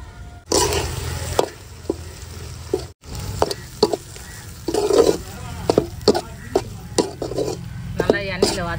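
Turkey thokku masala is sautéed in oil, with a low sizzle under repeated spoon scrapes and clinks against the pot, sharp metallic taps and stirring bursts close up, and a brief drop to silence partway through.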